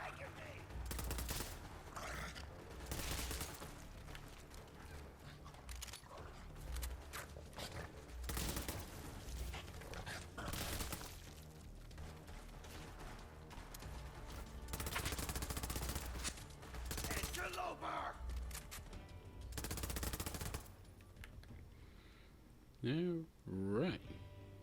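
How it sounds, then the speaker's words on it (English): Full-auto gunfire in the Borderlands video game, repeated loud bursts of rapid shots over game sound, with someone talking at times. "Or you can just put it here in full auto mode and let loose that way"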